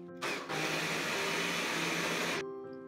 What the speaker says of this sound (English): Blend till you get nice and smooth consistency.